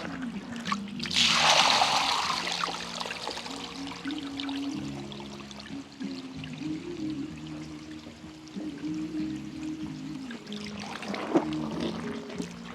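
Water runs and pours steadily while wild yam is being washed, a continuous trickling and splashing flow with a louder gush near the start and faint voices beneath it.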